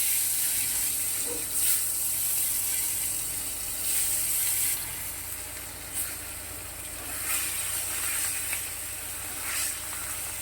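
Fish rubbed with salt and turmeric dropped into hot oil in a kadai, giving a steady broadband sizzle with a few sharper crackling bursts over about ten seconds, no talking.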